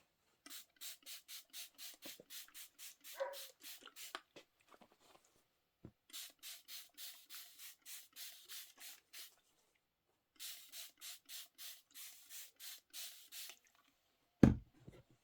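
Rapid trigger pumps of a hand spray bottle misting water onto quilting fabric before pressing, in three bursts of quick rhythmic spritzes separated by pauses, close and crisp, with a brief thump near the end.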